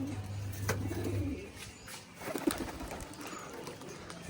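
Domestic pigeons coo softly at home in a low, brief murmur. The sound is faint, with a quiet background.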